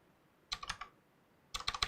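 Two short bursts of typing on a computer keyboard, a quick cluster of clicky keystrokes, a pause of near silence, then a second flurry, close and fairly quiet with no talking.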